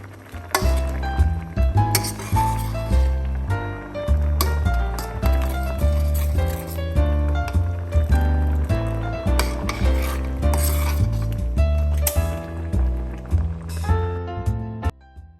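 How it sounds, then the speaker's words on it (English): Baobab seeds are stirred in water in a pot for a baobab drink, a continuous run of scraping, clinking and sloshing strokes at close range, rhythmic and fairly loud with no talk. "So I'll just continue stirring it until I see that most of my seeds have been cleaned"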